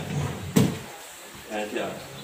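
A soft-close drawer in a kitchen island with a granite top shuts with one muffled thump, followed by faint rustling and a brief quiet settle.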